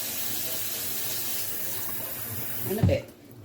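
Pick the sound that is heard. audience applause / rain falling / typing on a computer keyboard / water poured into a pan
water poured into a pan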